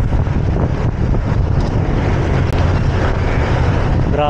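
Strong wind roars steadily against the microphone while riding a bicycle on a long solo ride toward Bulacan, a dense, constant buffeting rumble with no pauses.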